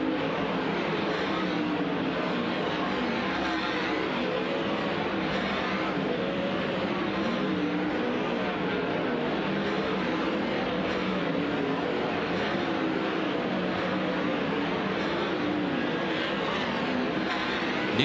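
Sprint cars lap Kings Speedway's dirt oval during a hot laps session in a continuous, dense roar of engines that stays loud and steady throughout, with no clear pauses.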